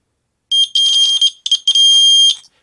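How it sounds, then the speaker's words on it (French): Electric buzzer wired straight to a battery, sounding a loud, shrill piercing tone in a few bursts, with a short gap and stutter before a longer final blast, close and alone. "on va connecter donc les bornes du buzzer avec les bornes de la pile"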